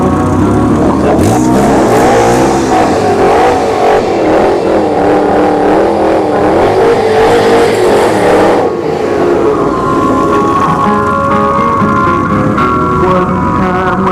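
Drag racing cars, a Honda Civic and a Paxton supercharged Mustang, roar at a dragstrip in a loud, sustained burst of engine noise that rises and sweeps, then drops to a lower idle rumble near the end.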